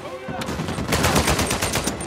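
Rapid automatic gunfire from a firefight in Uncharted 4, a loud, close string of bursts that fills the moment with little pause.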